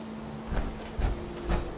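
Rain falling in the video game Fallout 4: a steady, hissing wash of rain carrying a few soft low thumps, with no one speaking.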